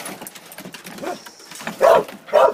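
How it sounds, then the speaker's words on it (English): A hunting dog gives two loud close barks near the end, after softer snuffling and whimpering sounds. "Right there is the best dog I got."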